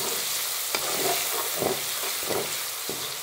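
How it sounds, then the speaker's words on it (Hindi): Ginger and garlic frying in hot mustard oil for a mixed vegetable pickle, a dense close sizzle punctuated by several scraping stirs of a spoon in the pan, with no talking. "Cook ginger and garlic in this oil for some time."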